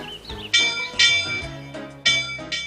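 A small train's bell rings out in a few bright, clanging strikes over a soft musical background, each strike sharp at onset and then fading, with no voices.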